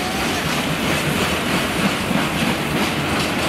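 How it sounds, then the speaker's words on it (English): A train rolls through Cardiff Central station with a loud, continuous rumble and clatter of carriages on the rails, heard close by and without talking. "this is the football supporters train."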